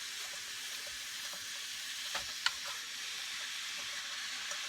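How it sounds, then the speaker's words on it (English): Ground beef browning in a pan gives a faint, steady sizzle throughout, with a couple of brief clicks or stirring taps midway; quiet and without speech. "just brown your meat up"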